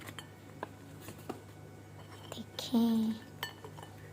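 Fresh jalebi is dished out onto a plate in a home kitchen, heard as a few light clinks and taps of utensils against dishes, with one short, louder scrape and a brief voice nearby.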